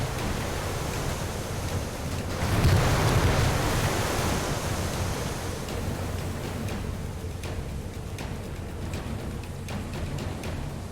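Ocean waves from the World War II naval warfare game Victory at Sea Atlantic roll and hiss as a constant broad wash of surf and wind, swelling briefly early on, with no voices.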